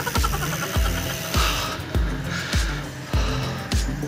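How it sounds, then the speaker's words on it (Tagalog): A cyclist breathes hard and rhythmically after an uphill climb near Mt. Makiling, with heavy, steady gasps close to the mic and a constant low rumble behind them. "Ay, hingal agad."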